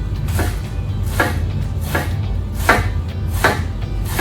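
A knife slices through crisp washed lettuce on a board in five evenly spaced crunchy cuts, each a short bright swish-and-thud, close and clear over a low background hum.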